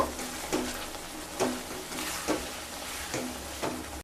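Pumpkin curry with sesame and poppy seed paste, finished with raw mustard oil, is stirred in a pan with a spatula. Steady scraping strokes recur about once a second over a soft sizzle.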